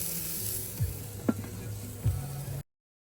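A hamburger patty and carrots sizzle steadily on a camping Blackstone griddle, with a few soft scrapes and clinks of a utensil over the constant frying hiss.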